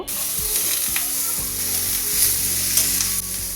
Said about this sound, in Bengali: তারপর আমি কেটে রাখা ওলকপি এবং মূলোটা দিয়ে দিলাম। এটাকে আমি বেশ একটু সময় নেড়েচেড়ে রান্না করব।